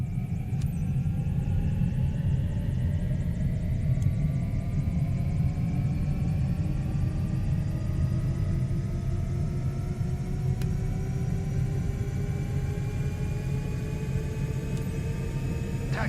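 A light aircraft engine runs steadily while taxiing in Flight Simulator 2024, a constant low rumble with rising whining tones from the propeller and engine, close and loud.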